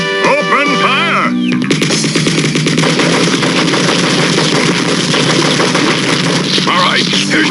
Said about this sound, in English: All right, troops, open fire.